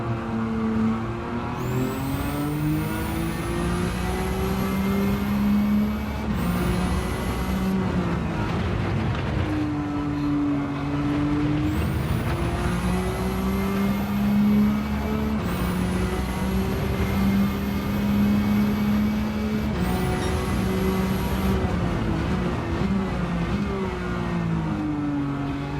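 A Nissan GT-R R32 tuned to 700PP racing a lap in Gran Turismo 7, its engine droning steadily and rising through repeated high revving pulls, each broken by a short drop at a gear shift or braking, close and loud throughout.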